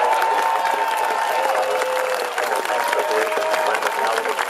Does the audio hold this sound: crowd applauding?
yes